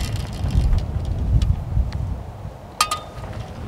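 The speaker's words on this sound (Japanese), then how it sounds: "すごい風ですね今日これも。" Strong gusty wind on a golf course on a cold day, a steady low roar buffeting the microphone throughout, with a brief metallic clink near the end.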